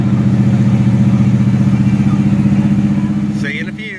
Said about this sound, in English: I got my hands full on a back road in a 70 Chevelle with manual steering.